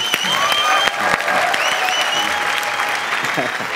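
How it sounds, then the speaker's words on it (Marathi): Applause from an audience at a comedy stage show fills the whole moment as loud, dense, continuous clapping, with some crowd noise mixed in. "टाळ्या"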